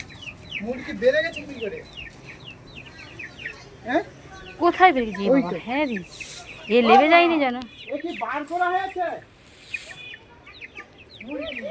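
A small chicken clucks close by in a series of short, rising and falling calls, with a person talking between and over them.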